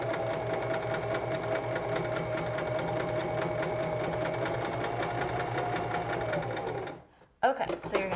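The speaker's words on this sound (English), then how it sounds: "I am just about finished sewing my handles" A Singer 1234 sewing machine runs steadily while stitching tote bag handles, its rapid needle chatter and motor hum continuous and close, then stopping abruptly near the end as a voice begins speaking.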